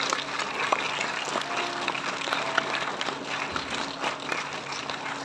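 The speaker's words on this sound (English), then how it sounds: "We will hear a big round of applause for yourselves" Audience applause at an International Day of Yoga and World Music Day event at Bhavan's Kendra in Hyderabad, steady dense clapping from a crowd filling the whole stretch at even loudness.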